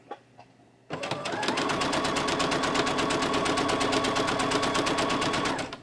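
A sewing machine pieces a quilt block for a fence rail quilt, running steadily at close range with a fast, even needle rhythm after a short quiet start, and no talk over it.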